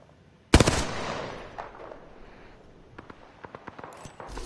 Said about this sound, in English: Some shooting happening over here.